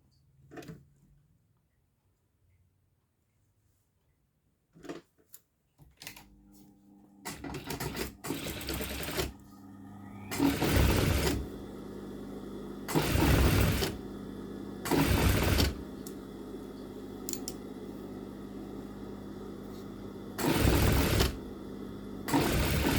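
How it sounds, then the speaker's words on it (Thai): Sewing machine stitching a back piece onto a shirt hem to lengthen it: after quiet handling noises, the motor whirs loudly in several short bursts of a few seconds each, separated by pauses, up close. "ชิ้นหลังที่เราเลาะยางออกเนี่ย มาเย็บเลยนะคะ เย็บติด"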